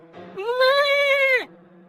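A goat in a Hindi cartoon story gives one loud, drawn-out bleat lasting about a second, close and alone, with a faint steady hum before and after.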